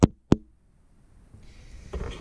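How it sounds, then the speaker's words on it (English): Fingers tapping on the side and front of a plastic GoPro action-camera case, two sharp close knocks in quick succession, then low handling rustle and faint background noise. "So that's me tapping on the side and on the front."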